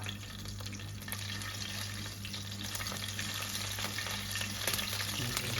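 Cumin seeds sizzle steadily in hot oil, a close, even crackling hiss that runs throughout with a low hum beneath and no talking.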